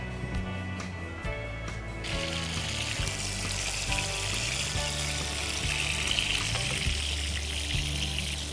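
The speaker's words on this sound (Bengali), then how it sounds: "আমাদের ম্যারিনেট করা চিকেনটা এখন একটু ভেজে নিব।" Marinated chicken pieces drop into hot oil and set off a steady, loud sizzling hiss that starts a couple of seconds in and continues under background music.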